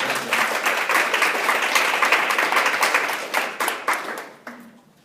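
A conference audience of cardiovascular and pulmonary rehabilitation professionals breaks into full applause, dense and fairly loud, holding for about four seconds before tapering off into a few scattered claps.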